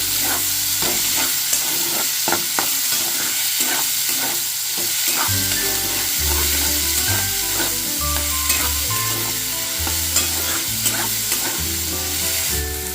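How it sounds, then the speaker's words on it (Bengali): Eggplant, egg and chopped onion fry in a pan, a loud steady sizzle with frequent spatula strokes scraping and clattering against the pan, close up. "দিয়ে ভালোভাবে এটা ফ্রাই করে নিতে হবে"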